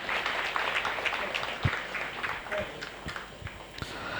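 An audience at a school scholarship event at Purusharth Vidhyaniketan in Bhanvad applauds a first-time guest, the claps an irregular patter at moderate distance, mixed with voices.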